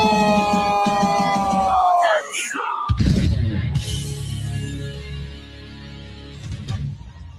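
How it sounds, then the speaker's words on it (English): A packed esports arena crowd at the M7 lower bracket finals, Alter Ego versus SRG, roars with cheers and yells. The noise is loud and sustained, with tonal sound early on before a broad wall of crowd noise takes over. "You can feel and hear the excitement of the crowd"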